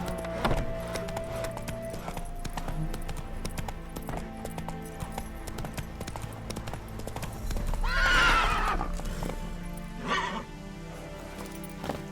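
A horse in The Witcher 3 trots with steady hoof clip-clops, then lets out a loud whinny near the middle and a shorter neigh shortly after, close and clear.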